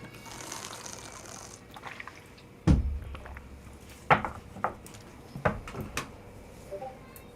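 A woman takes a sip of water. A few soft slurps and small clinks of the glass sound close and quiet against a faint room hum, with no talking.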